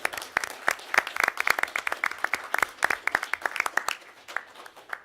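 Audience applause, a burst of clapping that holds steady for a few seconds, then thins out and fades near the end.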